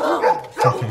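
A dog gives a few short barks and yips in quick succession, close and fairly loud, with no one talking.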